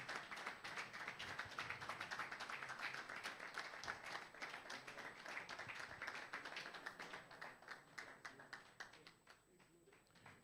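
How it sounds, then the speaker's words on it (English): A summit audience claps at length, dense clapping sustained loudly before gradually thinning and fading out toward the end. "I think it deserves every round of applause we give."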